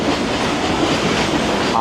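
A Howrah to Digha local train rolls into Uluberia station: a loud, continuous rumble of wheels and carriages with faint rail clatter throughout, and a brief squeal near the end.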